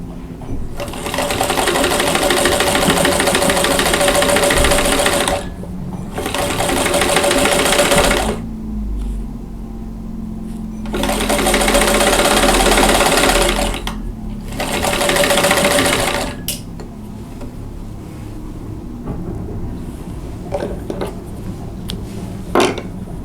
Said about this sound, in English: I'm going to go ahead and put a pin in, and then just sew this one